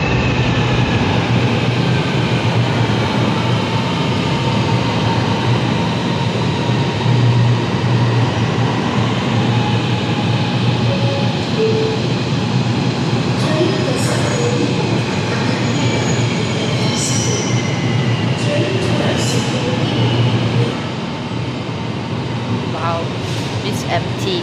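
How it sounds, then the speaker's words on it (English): A train pulls into an outdoor station platform where a few people wait in line, a steady loud rumble of wheels on rails with faint squeals and clicks, with some talk nearby. "Oh, the train is coming!"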